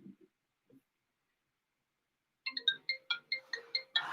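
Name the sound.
phone ringtone of an incoming call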